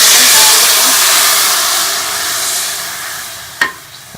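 Vermicelli roasting in ghee in a pan gives a loud, steady hiss and sizzle that fades slightly, then a single sharp clack of the stirring utensil against the pan near the end.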